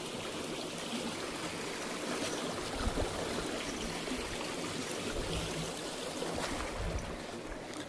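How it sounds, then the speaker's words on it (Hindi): A small river flows steadily over a sandy crossing built for pilgrims on a Narmada parikrama foot trail, with continuous broadband rushing and trickling close by and no voices. "ये नदी हम क्रॉस कर रहे हैं अभी और छोटा सा नदी है।"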